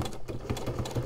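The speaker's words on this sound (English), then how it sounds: "I have this really nice sewing machine" A domestic sewing machine used for quilting runs briefly, a close, quiet rapid mechanical whir with steady rhythmic needle chatter across about a second.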